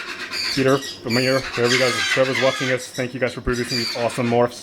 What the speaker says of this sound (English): Sorry about the noise of birds